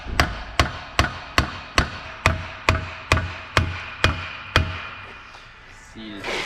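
A hammer drives the wheel hub out of the bearing on a 1990s Honda Accord, about a dozen evenly spaced, sharp metallic blows close up, then a pause and a brief clatter.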